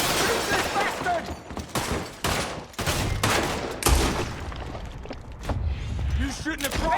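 Rapid gunfire from a Red Dead Redemption 2 shootout, loud repeated shots and volleys in dense bursts over about seven seconds, with brief gaps and thuds between them.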